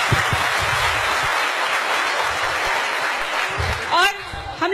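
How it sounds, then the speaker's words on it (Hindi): Audience applause at a cosmetics product launch event, a loud continuous crowd clapping that runs steadily, with a voice briefly talking near the end. "मैं चाहूंगी इसके लिए जोरदार ताली"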